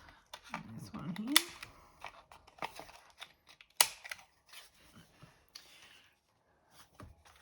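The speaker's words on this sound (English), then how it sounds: "I'm going to round these corners because the top one's practically rounded anyway" Scissors round the corners of cut-out paper pieces for a junk-journal pocket album, making a few short, close snips among soft paper rustles and handling noises, with some quiet speech.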